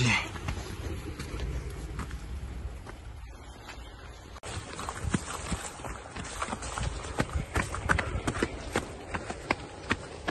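A horse climbs a steep mountain path, its hooves clip-clopping in an irregular stream of sharp nearby impacts against steady outdoor noise and rustling.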